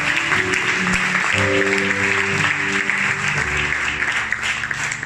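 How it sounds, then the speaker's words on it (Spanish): A church congregation applauding after a prayer, a full sustained roar of many hands clapping throughout, with low sustained music tones and faint voices mixed beneath. "Dame un aplauso fuerte."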